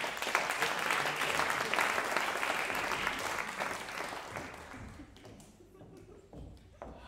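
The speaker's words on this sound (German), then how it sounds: "Großen Applaus" Audience applause for a singer called onto a stage at a school event, a dense, steady roar of many hands that fades gradually toward the end, with faint voices underneath.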